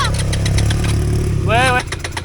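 ATV engine chugging steadily through mud and river water, a loud continuous low rumble with a shouted voice rising over it near the end before the engine drops off.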